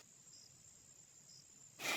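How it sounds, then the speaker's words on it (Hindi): Crickets at night in a quiet village chirp faintly with a thin steady trill and two brief louder pulses, set as a horror story effect, before a sudden burst of loud hiss cuts in at the end. "सिर्फ कहीं दूर से कुत्तों के भौंकने और झींगुरों की आवाजें सुनाई दे रही थीं।"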